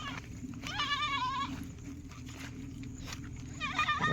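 Goats bleating outdoors in a rural jungle area near a village, two wavering bleats about two seconds apart, fairly close, with light background ambience and a brief voice.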